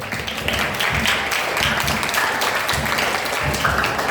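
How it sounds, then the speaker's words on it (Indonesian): An audience at a school arts performance by MTs Terpadu Berkah applauds steadily for several seconds, a dense, close patter of many hands clapping. "Tepuk tangan dulu dong."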